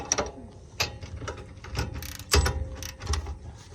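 Ratchet wrench tightening a bolt by hand during a Nissan 350Z toe gain bracket install, giving several short bursts of clicking ratchet pawl, moderately faint and close, with small clanks of metal handling between them.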